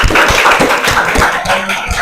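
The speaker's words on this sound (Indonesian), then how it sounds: "Tepuk tangan dulu buat temennya dong" A classroom of students claps for a classmate after a group presentation, a close, fairly loud patter of hand claps with distinct individual slaps in an uneven rhythm.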